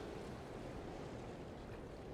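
Steady watery swishing and sloshing of a boat being paddled through water in the video game Monster Hunter: World, continuous and fairly soft with a broad rushing texture.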